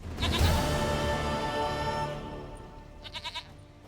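A goat in The Witcher 3 gives a long, wavering bleat, then a quick run of short, pulsed bleats near the end, loud and close with no talking.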